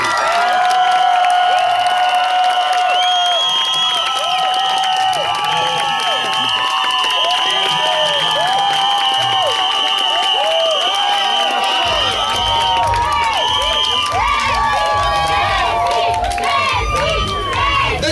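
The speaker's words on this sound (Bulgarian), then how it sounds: "Много ви моля, първо, вашите аплодисменти за Деси." A large audience at a stage show cheers, claps and shouts in a loud, sustained roar that holds steady for the whole stretch, with excited high voices layered throughout.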